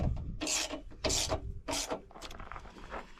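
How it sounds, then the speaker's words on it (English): A 3/8 ratchet with a 6-inch extension runs down bolts on a Jeep JL/JT steel bumper, giving three quick close rasping clicks bursts followed by lighter scraping. "I'm just going to go ahead and run them down with a 3/8 ratchet and a 6-inch extension"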